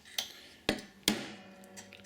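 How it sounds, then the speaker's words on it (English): Three sharp, close hammer blows flattening a nail in a beehive frame, at uneven intervals, followed by a fainter tap, with quiet room noise between strikes. "Grab your hammer"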